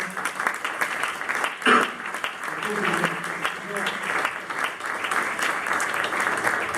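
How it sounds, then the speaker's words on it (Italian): A crowd applauds steadily for several seconds at a public event in Conegliano, Italy, a dense wash of clapping with a voice speaking over it. "Un applauso."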